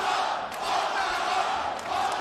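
A packed wrestling arena crowd in El Paso roars and cheers in a steady, dense wall of noise that holds without a break, with faint shouts poking through.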